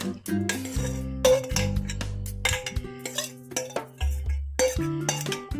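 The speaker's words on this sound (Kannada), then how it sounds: "ಇದಕ್ಕೆ ನಾನು ಮಾಡಿಕೊಂಡಿರುವಂತಹ ಒಗ್ಗರಣೆನ ಸೇರಿಸ್ತಾ ಇದ್ದೀನಿ" Tempering is stirred into curd rice with a metal spoon, giving repeated bright clinks and scrapes against a steel vessel in a steady rhythm, close and fairly loud, with no talking.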